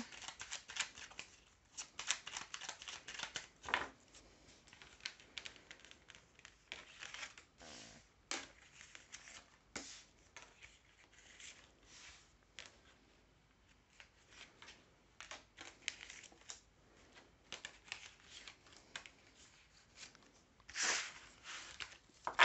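Tarot cards being reshuffled by hand, a soft run of papery riffles and slides with brief louder snaps, fairly close and quiet, no talking.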